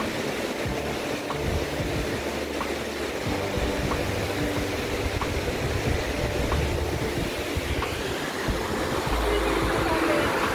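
Steady broadband rush of a waterfall beside the high Şenyuva stone bridge in Rize, continuous and fairly loud throughout, with a faint low rumble and no clear talk.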